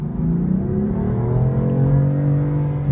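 A 2015 BMW M4 with its twin-turbo six-cylinder accelerates hard, giving a loud, close, continuous engine roar whose pitch climbs steadily over a few seconds, with no voices.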